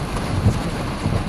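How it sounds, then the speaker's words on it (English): Rain pouring steadily on a storm chaser's parked vehicle during severe storms in Wisconsin, a dense, constant wash of noise with a low rumble beneath, no voices. "I'm just waiting for this rain to stop"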